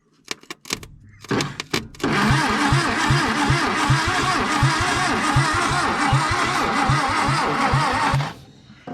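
A 1962 Hillman Minx, running on a new set of spark plugs, cranks over with a few sharp clicks and then a steady, rhythmic churning of the starter that lasts several seconds, loud and close, before it stops.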